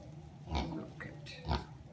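A pig grunts nearby in two short, low bursts, about a second apart, with quiet background in between and no talking.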